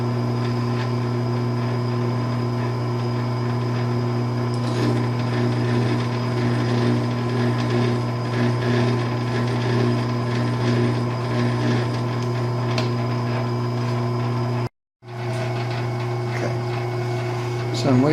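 A metal lathe threads an aluminum fuel tank filler neck, giving a steady loud machine hum with strong tonal drone that runs throughout, cut by one brief silent gap near the end.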